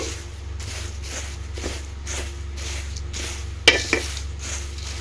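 A spoon stirs a salted poha mixture in a pan with soft, rhythmic scrapes, about one per second. A sharper metallic clank sounds near the end, over a low steady background hum.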